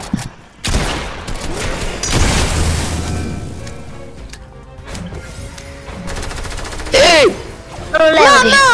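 Rapid bursts of gunfire and booming blasts from a Fortnite match, loud and repeated, with excited players' voices talking over the shooting.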